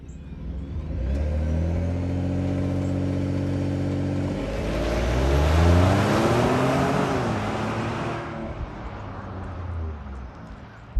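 Ford F-150 Tremor truck with an EcoBoost engine revving up, the note rising as it climbs and sweeps higher before falling back to a steady rumbling idle, loud and close with no talk.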